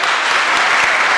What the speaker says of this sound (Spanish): Aplauso para la hermana.